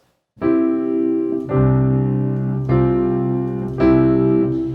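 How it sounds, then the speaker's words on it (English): Four sustained keyboard chords, a triad then sus2 and sus4 chords, played one after another, each ringing out bright and loud before the next shifts the harmony slightly. "you've got the triad, the sus2, and the sus4 chord"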